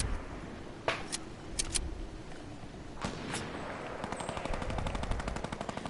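Gunfire in a video game: a few scattered single shots, then a rapid automatic burst that rattles on to the end, fairly loud and without talk.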